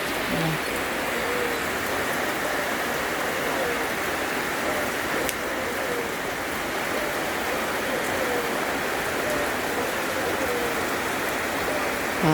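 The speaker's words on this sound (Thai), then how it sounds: "ฝนก็ยังตกอยู่" Steady rain falls continuously, a dense even hiss of drops on surfaces that stays at the same level from start to finish, with no other clear sounds standing out.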